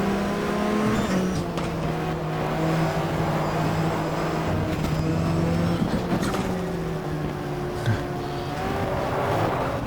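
Ferrari and Corvette race cars roar together in GTR 2, engines droning loud and steady at close range with shifting pitch as they battle and jostle for position, no voice over the engines.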